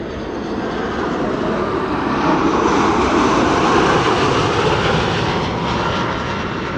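An Emirates SkyCargo jet taxis at Amsterdam Schiphol Airport, its engines a steady, loud, broadband roar that swells slightly midway and holds continuously, with no voices.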